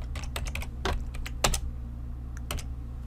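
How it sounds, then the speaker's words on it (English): Computer keyboard keys tapped in short, irregular bursts, close and fairly loud over a steady low hum, with a couple of sharper, heavier strokes. "let's type confirm"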